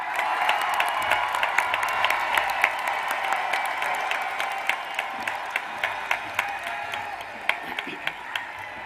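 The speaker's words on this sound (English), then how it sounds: "applaud those special people who have supported you in your journey up until this time" Graduates at a Seminole High School graduation ceremony applaud their supporters, a broad wash of crowd clapping that thins toward the end into distinct, spaced individual claps.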